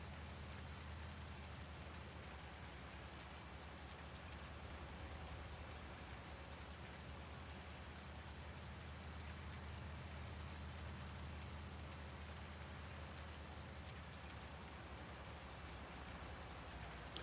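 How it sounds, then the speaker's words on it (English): Steady rain falls across the Farming Simulator 19 countryside, a dense, even hiss of drops on the ground that continues unbroken and fairly quiet, with no voices over it. "it feels very rainy right now"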